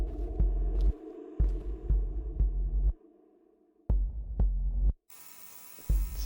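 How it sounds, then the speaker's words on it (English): Deep thrumming heartbeat in a student-made video game, heavy low pulses repeating in steady groups with a droning hum, broken by brief silences and a burst of hiss near the end. "Sort of a deep thrumming heartbeat sound."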